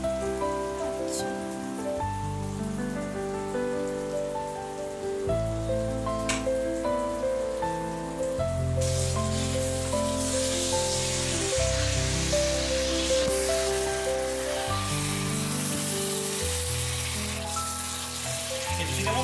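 Chicken and minced meat fry in oil with a continuous crackling sizzle, heard beneath loud, steady background music.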